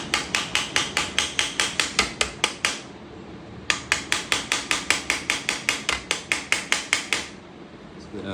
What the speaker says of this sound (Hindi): हैमर दे रखा है, ये प्लास्टिक का हैमर